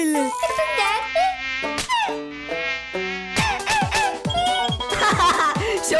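A mosquito in a comedy cartoon buzzes continuously at close range, its whining drone wavering in pitch and layered with bright, tonal sound effects throughout.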